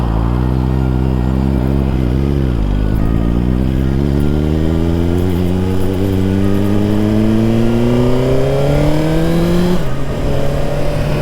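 A 2023 Suzuki GSX-R1000 sport bike is ridden on a wet road in the rain, its engine climbing loudly and steadily through the revs with a couple of gear changes, close and continuous.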